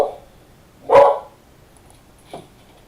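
A dog gives one loud, sharp bark that rings out clearly, followed by a softer, shorter bark a moment later, with quiet in between.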